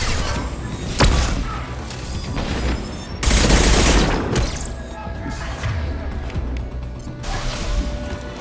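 Gunfire and impacts from a Mass Effect Legendary Edition firefight on PS4, with bursts, crashes and a loud blast around the middle over dense game noise, and voices talking under it.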